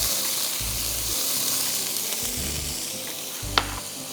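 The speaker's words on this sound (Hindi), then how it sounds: "अब ये जो गोश्त है उसको हम डाल देंगे। इसी पैन में सब कुछ डाला करें" Meat frying in a pan, a steady close sizzle with soft low bumps of stirring and a single brief clink near the end, no voices over it.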